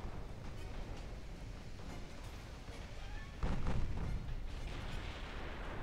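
Battleship gunfire in the naval warfare game Ultimate Admiral Dreadnoughts, a dense continuous rumble of distant big-gun shots and explosions, with one heavier boom swelling up partway through.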